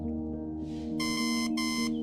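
In the video game Until Then, an alarm clock sounds two bright electronic beeps in a row, the first longer than the second, over a sustained tonal background hum.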